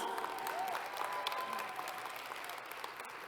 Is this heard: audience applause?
yes